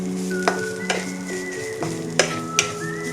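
Grated paneer goes into a pan with spinach and sizzles steadily while a spoon stirs it, giving several sharp scraping clinks against the pan over a constant frying hiss.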